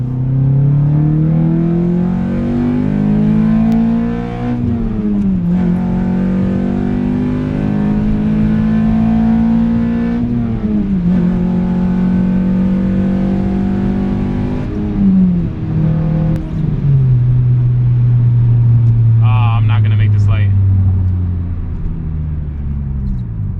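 A 20-year-old Integra coupe driven hard, its engine revving loud and close, pitch climbing repeatedly through the gears with brief dips at each shift and no talk over it.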